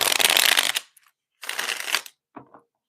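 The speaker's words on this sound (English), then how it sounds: "I'll shuffle these cards a million times." Playing cards are shuffled in two quick riffling bursts, followed by a few soft taps as the deck is squared, close and crisp with no talking.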